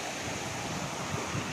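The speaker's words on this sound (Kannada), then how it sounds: "ಅಲೆಗಳ ಕೊರೆತ ಸಖತ್ತಾಗಿದೆ." Water surges and churns along the KRS backwaters shore near Mysore, an unbroken, fairly loud roar of surf with wind rumbling across the microphone.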